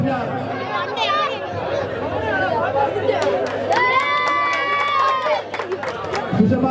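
A crowd at Kottarakkara municipal football ground cheers and claps for a Santhosh Trophy team, with lively chatter and sharp claps under a speaking voice.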